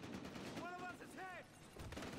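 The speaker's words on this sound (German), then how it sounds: "Hier wird schon wieder scharf geschossen" Gunfire in the video game Battlefield Hardline, faint and distant, with quick shots under a low background and a brief voice-like tone.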